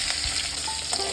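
Chopped garlic sizzling in hot oil for an egg masala curry, a steady, close crackling fry with a faint stir or scrape partway through.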